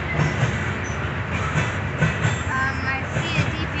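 A Norfolk Southern freight train rolls past a railfan tower in Ludlow, a steady, loud rumble of wheels on rail with rhythmic clickety-clack throughout.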